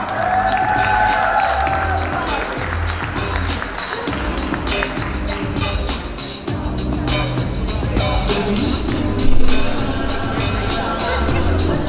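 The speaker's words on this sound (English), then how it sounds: "let's give them a big round of applause" An audience applauds and cheers for authors welcomed on stage at a talk event. The crowd noise is busy and mixed, with clapping, voices and shouts, and rises briefly near the end.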